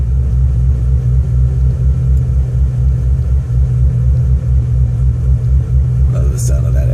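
An LS V8 engine idles after oil priming, a steady low rumble close by with a slightly uneven throb, alone apart from a brief faint clatter near the end.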